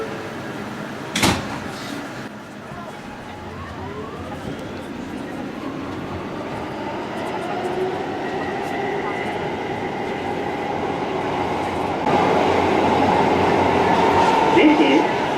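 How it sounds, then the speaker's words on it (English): A Queens-bound New York City G subway train pulls out of the station, a steady rolling rumble with wheel squeal and rising motor whine that swells louder near the end, a sharp clank near the start. "This is a Queens-bound G train."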